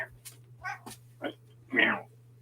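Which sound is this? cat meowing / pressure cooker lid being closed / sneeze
cat meowing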